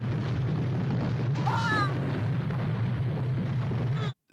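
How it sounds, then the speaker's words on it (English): An explosion rings out in the Star Trek episode Friday's Child, followed by rumbling debris and a few brief squealing tones over a steady low hum, then an abrupt cutoff. "That explosion threw debris out"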